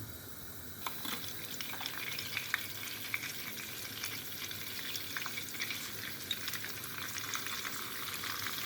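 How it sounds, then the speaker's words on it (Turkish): Oil and butter for mushroom soup sizzle quietly in a heated pan, a soft continuous crackle with faint scattered pops and clinks, with no voices. "sıvı yağ gezdiriyoruz. Buradaki tereyağımızdan da biraz ilave ettik."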